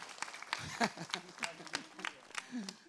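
Small indoor audience at an Islamic religious talk giving sparse, uneven clapping, a scattering of individual claps over murmured voices, fairly quiet.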